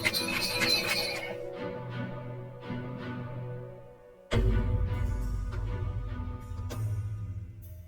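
A horse neighs loudly and close as a tonga, a horse-drawn cart, comes to a stop; a second burst of whinnying follows a short pause, over a low rumbling background with no talk.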